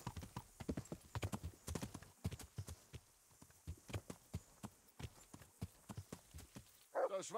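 Horse hooves clip-clopping at a steady riding pace in the medieval video game Kingdom Come: Deliverance, crisp rhythmic strikes close by, with a brief louder sound near the end.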